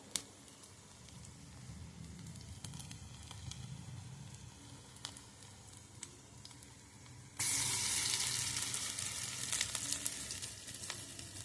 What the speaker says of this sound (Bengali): তেলটা আমার গরম হয়ে গেছে। এবার বড়াগুলো এক এক করে আমি ছেড়ে দিয়েছি গোল গোল করে।